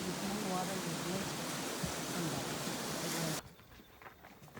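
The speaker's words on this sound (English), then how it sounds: "you are rewarded by the sight and sound of water tumbling over the rock into the green waters of Lake" Steady broadband rush of a waterfall tumbling over rock into a green lake at Wai-o-Tapu, New Zealand, continuous and moderately loud, with a faint voice murmuring underneath before it cuts to quieter ambience.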